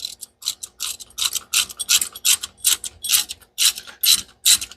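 Ratchet wrench tightening a bolt on a turbo 460 Mustang, a close series of rhythmic clicking bursts, about a dozen strokes in quick succession with no talk.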